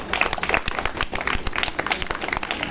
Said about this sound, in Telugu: అందుకే గట్టిగా చప్పట్లు కొట్ట